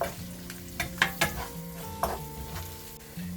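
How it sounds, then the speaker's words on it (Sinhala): Chili flakes fry in hot oil in a pan while a spoon stirs them, soft sizzling under a few close scraping and clinking strokes against the pan, no talking. "මේ විදිහට මිරිස් කැලි ටික දාගෙන දැන් මේක හොඳට පොඩ්ඩක් පිටරේ බැදෙන්න දීලා හොඳට කලවම් කරගමු"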